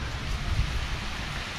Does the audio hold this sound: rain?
yes